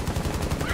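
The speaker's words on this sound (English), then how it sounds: "Can I just bring my machine gun through the window and hopefully like it catches a couple of them?" Rapid machine gun bursts from a video game fire repeatedly through a window, a steady dense rattle that fills the short moment at close range.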